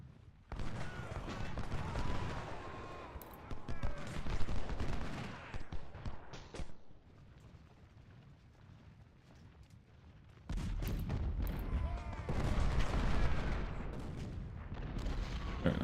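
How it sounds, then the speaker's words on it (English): Rebel artillery barrages in Ultimate General: Civil War at the Battle of Spotsylvania Courthouse, a dense rumble of overlapping cannon and gunfire that fades to a quieter lull midway, then swells again loudly near the end. "It's a lot of rebel artillery"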